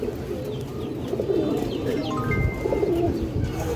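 Two Moynajak pigeons brooding on a pair of eggs give a steady, close coo, with a few faint higher chirps mixed in and no voices.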